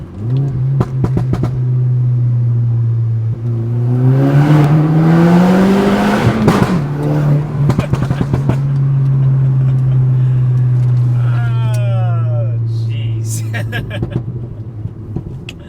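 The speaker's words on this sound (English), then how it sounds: "This car sounds so good on the tunnels" Stage 2 tuned Volkswagen Golf R accelerating hard through a tunnel at night, a loud steady engine drone rising with revs, shift breaks and sharp pops between gears, heard from inside the car.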